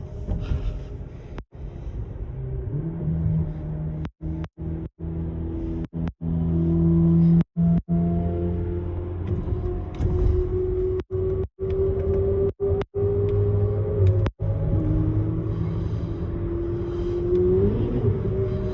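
A Ferrari sports car drives on a road, its engine revving and shifting in pitch with rising and falling tones, close and fairly loud, broken by several abrupt cuts.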